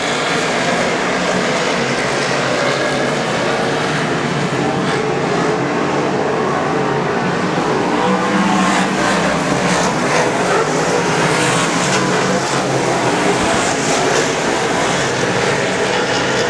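Superstock race cars roar around an oval track in a dense, continuous wall of engine noise, loud and sustained throughout with a rising swell partway through, crowd and ambience blended in.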